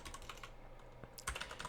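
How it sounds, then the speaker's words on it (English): Computer keyboard typing while an email is written in Outlook, a run of soft close keystrokes in an irregular rhythm with a slightly louder burst near the end, quiet and with no talking. "I'm creating a new email, and I'm typing in the email to Bob."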